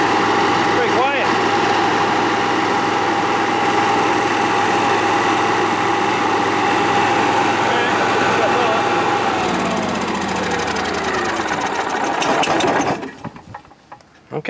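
A GMC motorhome's generator runs steadily with a constant mechanical drone and tonal hum, then winds down and cuts out near the end.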